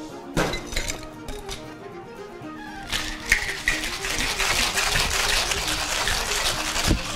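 A cocktail shaker with ice is shaken hard: a few clunks and rattles at first, then a sustained, rapid rattling of ice against the shaker, loud and close, ending in a sharp knock.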